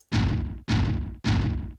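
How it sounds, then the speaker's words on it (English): Three heavy, distorted booms from the Stomp Trapdoor drum sample in Logic Pro, each loud and close, with a gritty thudding body that rings out for about half a second before the next hit. "There's something called Stomp Trapdoor, which has this really interesting distorted sound about it."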